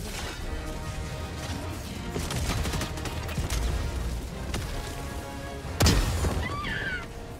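Missiles from a recoilless rifle blast in the shooter game Helldivers II, a string of heavy booms and crashing impacts rumbling together, with one sharper, louder explosion near the end.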